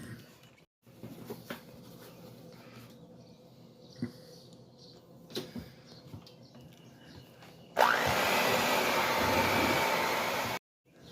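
An electric hand mixer blends flour into soft fig cookie dough, running as a loud steady whir for about three seconds near the end after quieter kitchen clatter and handling noises.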